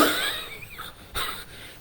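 A person coughs twice, close and rough, with a short pause between the two coughs.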